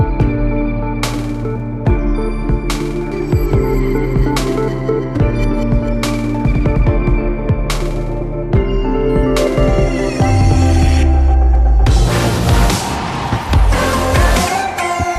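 A Nissan 240SX with a fuel leak, driven on a test run, revs hard and loud up close, its engine note climbing and dropping through repeated gear changes with rough, throbbing bursts.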